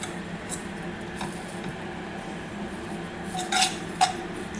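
Dry vermicelli roasting in a pan while being stirred, a quiet scraping rustle with a couple of sharper clinks of the spoon against the pan near the end.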